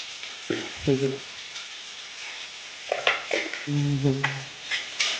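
Onions fried until crisp in a home kitchen pan as turmeric goes in for a Bengali mutton kosha, with intermittent scraping stirs and soft sizzling in short bursts, and a brief voice in between.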